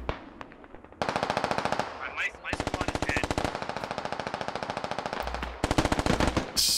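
Sustained automatic gunfire from a Squad video game battle, loud rapid bursts of shots running almost continuously with brief pauses, dense overlapping rounds and a few sharper cracks near the end.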